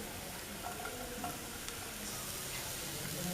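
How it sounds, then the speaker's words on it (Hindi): Carrot, capsicum and cabbage stir-fry over a high flame with chopped onion, a soft, even sizzle with light stirring scrapes, faint and steady throughout with no voices. "सभी को अच्छे से मिला लें और इसे हाई फ्लेम में 1 से 2 मिनट फ्राई कर लें"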